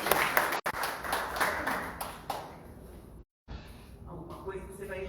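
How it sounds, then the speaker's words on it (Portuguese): Church congregation clapping in a fairly steady rhythm during a worship service, fading after a few seconds as a voice speaks over and after it. "Uma salva de palmas para Jesus."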